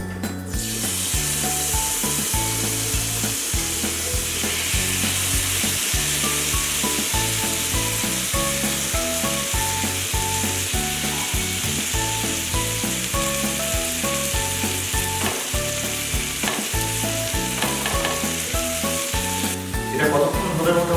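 Tandoori chicken brushed with butter sizzles and fries steadily in a pan, a dense continuous crackle with faint scraping or stirring underneath and no talk.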